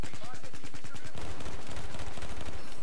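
Rapid automatic gunfire in the Battlefield 4 video game, a steady stream of sharp, evenly spaced shots that turns into a denser, louder barrage partway through.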